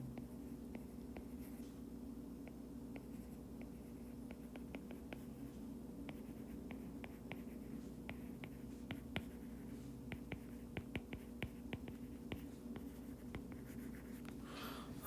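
Chalk or marker writing on a board during a physics lecture on energy and work, a steady run of small taps and strokes over a low room hum, faint and continuous, with no talking.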